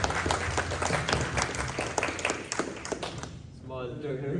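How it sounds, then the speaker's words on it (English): An audience at a hands-on drone-building workshop claps for a participant, a dense burst of applause with sharp individual claps that fades out near the end. "Can you give a round of applause for Andrew?"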